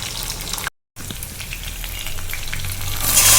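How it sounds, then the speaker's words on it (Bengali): Chickpeas frying in a little oil with dry chilli, green chilli and panch phoron spices, a loud close steady sizzle that cuts out briefly, then resumes and swells louder toward the end. "এরপর আমি ছোলাটাকে অ্যাড করে দেবো এর সঙ্গে ছোলাটাকে নিয়ে ভেজে দেবো"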